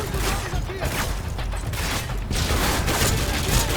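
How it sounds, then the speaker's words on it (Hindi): Gunfire in the video game Call of Duty Modern Warfare 2, dense bursts of shots and booms that fill the mix continuously, with a voice talking over parts of it. "ओके, यहाँ से फायरिंग आ रही है।"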